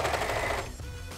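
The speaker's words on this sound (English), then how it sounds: "You also have to sew the elastic at your leg openings, and you want to pull it slightly more" A sewing machine runs steadily while stitching elastic around leg openings, a close, continuous mechanical whir that slows slightly toward the end.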